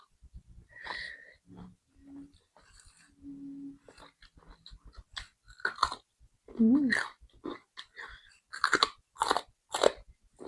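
Crunchy chewing of lemongrass and crisp fresh vegetables eaten with grilled pork neck and jaew dipping sauce, close-up loud bites and repeated crunches in bursts, with a few soft vocal sounds between them.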